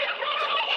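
Fowl in the 1987 film Angel Heart, a dense, steady burst of gobbling and clucking that fills the short moment with no talk over it.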